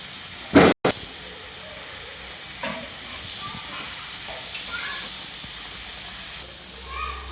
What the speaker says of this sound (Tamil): ஏற்கனவே எண்ணெயில் வதங்கினதுனால இப்போ இந்த கறியை போட்டு நல்லா வதக்கிடுவோம்